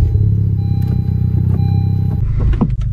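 A 10th-generation Honda Civic engine starts up close by, a loud, deep rumble that shifts and catches near the end, with a faint clatter.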